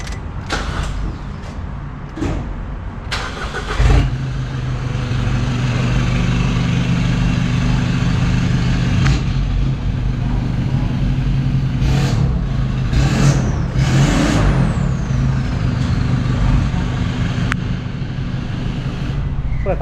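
A white 2022 Isuzu pickup, Cab4 1.9S with manual gearbox, cranks over and its engine settles into a steady, loud idle hum that runs throughout, with a few clunks and brief voices in the background.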